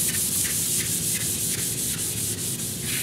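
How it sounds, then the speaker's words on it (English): Sandpaper of 400 grit rubbed by hand across a metal planer table, a steady close scratchy hiss in repeated back-and-forth strokes with no talking. "give it a little shot of lacquer thinner, and then I just use a little bit of 400 grit"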